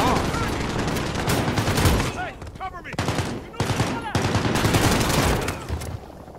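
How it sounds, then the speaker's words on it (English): Shotgun blasts and gunfire in Call of Duty Modern Warfare, a dense run of loud, rapid shots with brief gaps near the middle, with a player's voice talking over parts of the action. "Alright, this is a shotgun."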